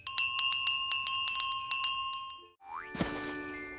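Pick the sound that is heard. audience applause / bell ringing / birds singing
bell ringing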